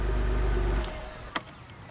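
A 1997 Porsche 911 993 Turbo S engine idles with a deep rumble, then cuts off abruptly, leaving near silence broken by a single small click.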